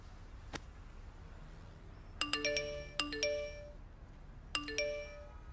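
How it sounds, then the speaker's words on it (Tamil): Mobile phone message notification tones chime repeatedly on a handset after a SIM card is switched on: an early tick, then several bright multi-note pings in quick clusters, clear and fairly close over faint background hiss. "என்ன இவ்வளவு மெசேஜ் வருது"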